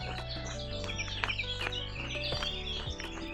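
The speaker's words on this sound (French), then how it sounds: "Vous pouvez entendre beaucoup d'oiseaux." Many birds chirp and call in a wooded green trail setting, with overlapping tweets and songs continuing steadily at moderate level against a low, constant background hum.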